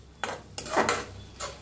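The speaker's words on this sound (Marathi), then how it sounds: "मिक्स करून घेऊया." A spoon scrapes and knocks around a pan while pumpkin and ambadi greens are stirred together, making about four separate strokes, close and moderately loud, with no talking.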